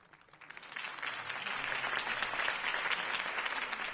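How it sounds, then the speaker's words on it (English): Crowd applause after a campaign speech by Harvey Dent in a Batman Telltale video game, starting quietly and swelling into a broad, steady roar of clapping that stays fairly distant. "If only Mr. Wayne, my campaign's largest backer, could have heard that applause"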